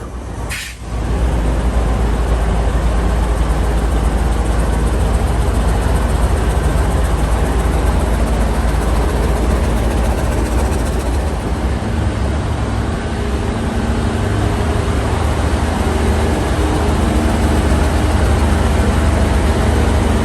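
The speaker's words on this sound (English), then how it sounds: "the locomotive today was the impressive Class 26" Class 26 Blue Tiger diesel locomotive on the Singapore to Johor Baru line, a loud, steady engine drone and low rumble sustained throughout after a brief sharp knock at the start.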